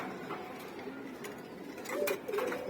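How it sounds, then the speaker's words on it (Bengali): Soft cooing from healthy pigeons in a loft, a quiet low coo or two near the end over faint background noise, with no talking. "আর এখানে 3টাও সুস্থ কবুতর।"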